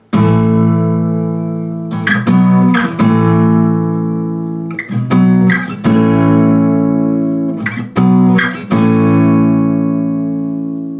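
Sustained strummed guitar barre chords, including a suspended fourth, ring out, each held for a couple of seconds, separated by quick percussive strums and sliding chord changes.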